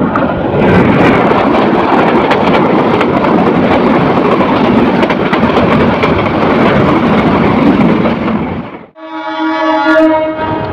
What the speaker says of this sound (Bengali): এই যে এটি একটি মালবাহী ওয়াগন ট্রেন।